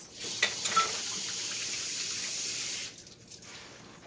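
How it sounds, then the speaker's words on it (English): Water runs steadily from a tap as hands are washed beneath it, a continuous rushing hiss with a few small splashes, then the flow stops and quieter handling sounds follow. "Gotta wash my hands"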